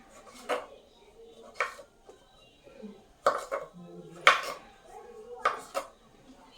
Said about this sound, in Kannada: ನಾನು ನಿಂಬೆಹಣ್ಣು ಸಣ್ಣ ಸಣ್ಣ ಪೀಸ್ ಪಾಸ್ ಮಾಡ್ಕೋತಿದ್ದೀನಿ